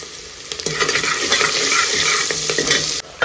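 Curry leaves and onion sizzle steadily in a hot pan while being stirred, a loud continuous frying hiss close by with light scraping of the spoon and no talking.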